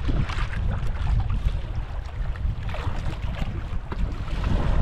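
Big waves and strong wind buffet a fishing boat out at sea, making a loud, continuous roar of rushing water and gusting air that swells and eases without a break.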